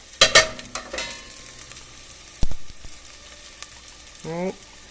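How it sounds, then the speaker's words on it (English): Pasta ingredients sauté in a pan, a soft sizzle under clanks and knocks of stirring, with a sharp utensil hit midway and a brief pitched squeak near the end. "Stir it around. Saute that shit up real quick."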